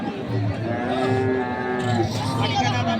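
A bull lets out a long, loud moo close by at a cattle market, then a second lower moo follows, with crowd murmur in the background.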